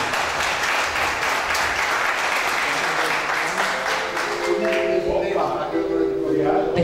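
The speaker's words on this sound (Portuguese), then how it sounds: "Queremos receber, peço os aplausos, a Fábio Hu Xuan Yi." Sustained applause from a large crowd at a formal ceremony for the bicentenary of immigration, steady and dense throughout, with voices rising near the end.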